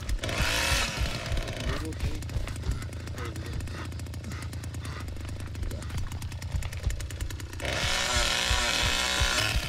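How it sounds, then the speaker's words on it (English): A Leatherface chainsaw roars in the Texas Chainsaw Massacre video game, a loud, continuous buzzing that rattles on for nearly ten seconds, with game sounds and voices mixed in. "Why do they think that he can stick his little chainsaw in that little crack?"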